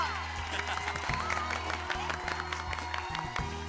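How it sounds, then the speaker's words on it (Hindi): Audience applause and cheering at a sitcom party scene, steady clapping from a crowd with scattered whoops, laid over music and voices throughout. "तालियां दोस्तों"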